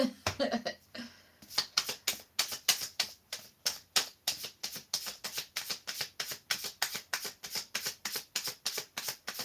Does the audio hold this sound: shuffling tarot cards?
yes